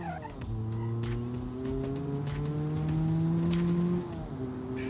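A V8 car with an LS7 engine swap accelerates hard in a BeamNG driving game, its engine note climbing steadily through the gears and rising in pitch before dropping at a shift near the end. No one speaks over the loud, continuous engine.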